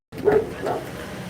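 A dog on a rainy city street gives a couple of short, moderately loud barks in quick succession, with a steady wet background hiss beneath them.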